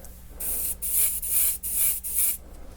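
UV white paint sprays out as an even mist in four quick hissing bursts, each lasting under a second with brief pauses between, close and clear.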